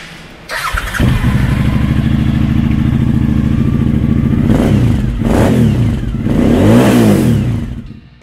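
A 2007 Suzuki DL1000 V-Strom 1000 motorcycle engine starts, settles into a loud, close idle, then revs sharply three times with rising and falling pitch before cutting off, with no talking.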